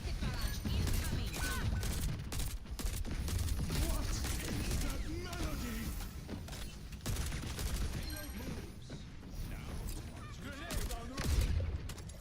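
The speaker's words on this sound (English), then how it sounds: "Rocket barrage incoming" A rocket barrage erupts in the Overwatch shooter game, a dense string of rapid, sharp explosive bursts firing in quick succession for several seconds amid chaotic battle noise, with faint voices in the mix.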